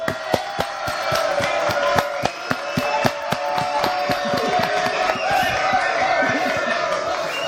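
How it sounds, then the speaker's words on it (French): A studio audience claps and cheers, sharp individual hand claps standing out over crowd noise and voices, continuing throughout. "Allez, on applaudit Jean-Paul, qui a reconnu son erreur."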